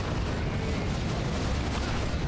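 Space Marines firing in Dawn of War 2 Retribution: a dense, continuous roar of gunfire with booming impacts, loud and unbroken throughout.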